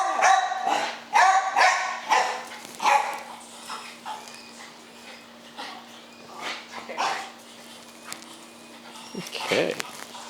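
Two dogs with a history of fighting bark during a behaviour assessment, a loud burst of rapid close barks at the start, then scattered yips and whimpers, with people talking throughout.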